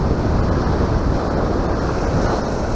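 Ocean waves rolling in with a steady, loud wash of surf, mixed with wind buffeting the microphone, continuous and without any talk.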